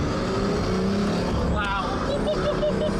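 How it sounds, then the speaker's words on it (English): A video-game Pagani supercar with a straight-pipe exhaust roars steadily and loudly, its engine note rising and shifting near the end, while someone talks over it. "we'll listen to a straight pipe one"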